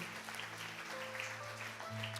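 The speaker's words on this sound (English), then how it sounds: "Y'all give the Lord a hand clap." A church congregation claps their hands, a continuous moderate patter of many hands under sustained organ or keyboard tones, with some voices in the room.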